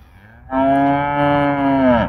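Cows mooing: one long, loud, drawn-out moo close by that holds steady for well over a second and then trails off, with no other sounds around it.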